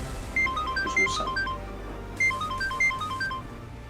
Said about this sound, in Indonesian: aku harus telepon Arga sekarang